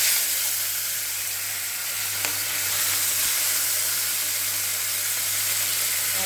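Kajli fish coated in salt and turmeric fry in hot oil in a wok, giving a loud, close, continuous sizzle and crackle with a faint stir or clack partway through, and no talking.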